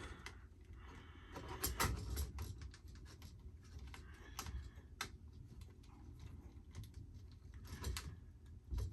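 A Commodore SX-64 keyboard, its keys being tested after a rebuild, gives irregular clicks and clacks of typing, with some louder key strikes scattered over a faint background.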